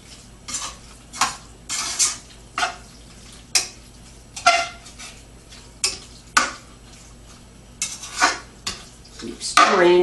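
Meat being stirred in a pan while it cooks until just gray, with repeated scraping, clinking strokes in an uneven rhythm over a faint background hiss, close and moderately loud.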